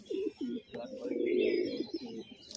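A red wood pigeon coos in soft, low rolling phrases, fairly faint, with someone talking alongside.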